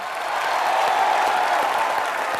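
A studio audience on a comedy show applauds for Priyanka Chopra and Umang Kumar, a dense, steady wash of clapping that swells in and holds for a couple of seconds.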